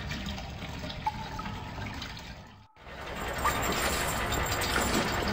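Water rushes and gurgles through the pump of a water distribution system in the video game Black Mirror, a steady close flow that briefly drops out before resuming fuller.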